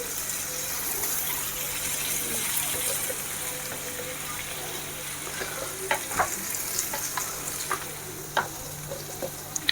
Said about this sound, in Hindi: मिर्चा को बिल्कुल प्याज के साथ भून लेना है।